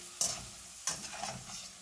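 Nopal chips fry in a pan over medium heat, giving a steady close sizzle broken by two sharp stirring scrapes near the start and middle, with no voices.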